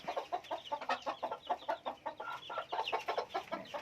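Hens and chicks clucking steadily, a rapid run of overlapping short calls from several birds close by.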